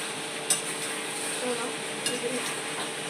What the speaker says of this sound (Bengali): বিরিয়ানি চিকেনটাকে কষাচ্ছি